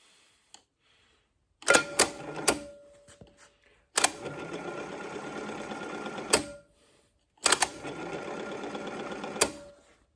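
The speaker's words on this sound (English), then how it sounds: "Let's grab the wrenches and get to work on this thing." Tools work on a Wu Ling diesel engine, giving three rapid mechanical rattling bursts of about two seconds each, separated by short quiet gaps, loud and close with no speech.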